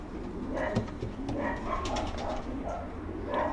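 Soft, low cooing from a racing pigeon, a young bird presented for auction, with several murmured coos in a row at close range over light background noise.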